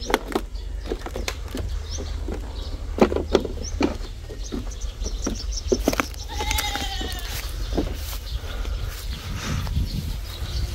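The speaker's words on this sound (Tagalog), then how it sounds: "Yung mga kambing sa inyo rin yan." Goats bleating now and then amid a busy outdoor scene, with scattered clicks and taps and a low rumble underneath.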